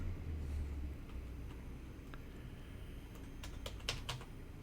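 Quick bursts of keystrokes on a computer keyboard, a few isolated taps followed by a faster flurry of clicks near the end over a steady low background hum.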